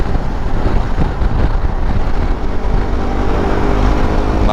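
A motorcycle cruises at about 80 km/h on a solo touring ride along the Pantura coastal road in Java. It makes a loud, unbroken roar of engine and rushing wind with no talking.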